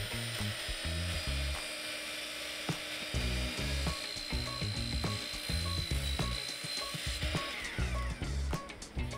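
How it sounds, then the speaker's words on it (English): A table saw cuts the initial kerf partway into a wooden sled, a loud, steady whine from the spinning blade that runs throughout, with rhythmic low mechanical knocks underneath. "Here I am cutting the initial kerf, but stopping short of cutting all the way through the sled."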